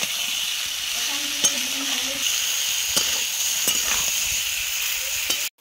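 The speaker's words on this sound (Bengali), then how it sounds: "মশলার সাথে ফুলকপি আলুটাকে একটু ভালোভাবে কষিয়ে নেব।" Cauliflower and potato pieces frying in spiced oil in a pan, a steady close sizzle with a few scraping stir strokes, no voices.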